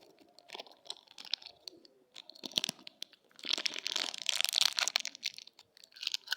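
Someone chews a crunchy snack close to the mic, making a steady run of crisp crunches and crackles that grows denser and louder partway through.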